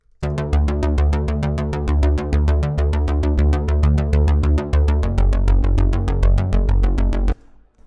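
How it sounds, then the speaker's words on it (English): Deep, plucky analog-style synthwave bass in the manner of a Korg Poly 6, playing a steady run of short repeated notes for about seven seconds, loud and alone with no talking, then stopping cleanly. "It's a bass sound that closely resembles the Korg Poly 6 bass sound from the classic analog synth."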